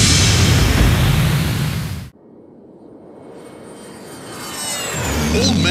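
An airplane engine in a PlayStation 2 game cutscene roars loud and broadband, cuts off abruptly, then builds back up from a low rumble to a steady roar with a rising whine.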